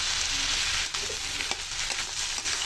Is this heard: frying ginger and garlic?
yes